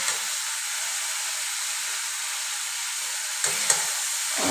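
Eggs sizzle and hiss steadily in a hot pan while being stirred, with a couple of sharp scrapes near the end and no talking.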